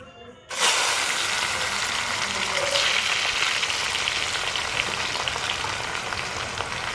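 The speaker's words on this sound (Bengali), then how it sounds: "পেঁয়াজটা কতক্ষণ লাল লাল করে ভাজা হয়।" Onion frying in a pan: after a brief quiet start, a loud, steady sizzle fills the rest of the clip without letting up.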